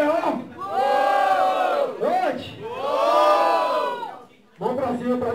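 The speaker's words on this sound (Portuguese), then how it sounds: "Barulho pra Zinas do B.O" A crowd at a rap battle semifinal roars and shouts in long loud bursts of cheering and whooping, dipping briefly between waves before rising again.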